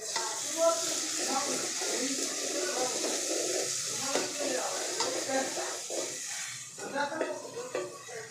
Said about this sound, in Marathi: आता अद्रक लसूणचा पेस्ट टाकायचा.